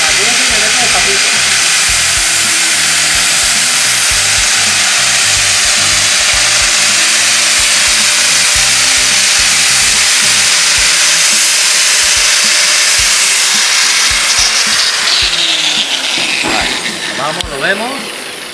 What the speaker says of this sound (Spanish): Empezaríamos con el disco de 1000 hojas, con una radial de revoluciones normales.